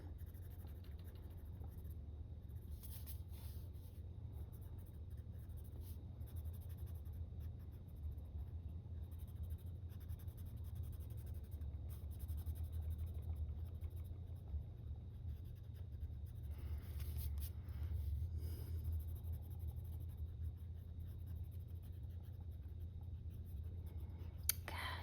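Coloring pencil or marker scratching on the shiny paper of a Johanna Basford coloring book, a faint steady rubbing texture that runs throughout, with low background hum and no speech.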